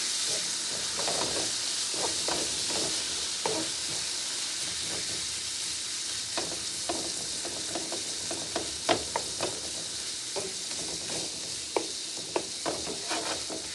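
Steak sizzles on a hot griddle for a cheesesteak, a steady close hiss of frying with scattered sharp crackles and the occasional scrape of a spatula chopping the meat, with no talking.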